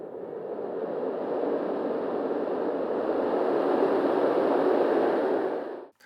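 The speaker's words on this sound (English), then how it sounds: "And this is the Snooz Pro." A Snooz Pro fan white noise machine blows a smooth, full rushing hiss that swells in gently, holds steady for several seconds, then cuts off abruptly near the end, with no voices.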